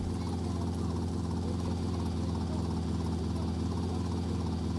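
A helicopter in GTA Vice City drones steadily through the whole stretch, a constant loud rotor and engine hum with no pauses.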